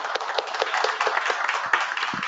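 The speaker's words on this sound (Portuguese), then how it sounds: "Eu queria uma salva de palmas," A round of applause from a small meetup audience at a financial planning company event, uneven clapping from a modest group, fairly close and steady throughout.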